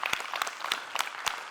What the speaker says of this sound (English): Let us applaud their efforts in organizing this wonderful event